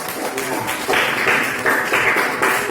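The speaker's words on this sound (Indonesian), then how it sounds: "Tepuk tangan dulu" A classroom group gives a short round of applause during a physics lesson, several bursts of clapping rising and falling close by, with no talk over it.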